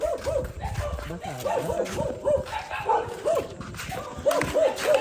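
A dog barks in short repeated yips and bow-wows at close range, mixed with people talking and moving around nearby.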